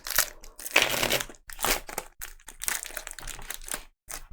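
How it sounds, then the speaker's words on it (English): Rough, crackling card shuffling in several quick bursts with short pauses, papery riffles and crunches close by, no voices. "Let me give these a shuffle."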